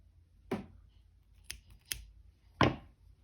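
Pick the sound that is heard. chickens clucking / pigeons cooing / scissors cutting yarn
scissors cutting yarn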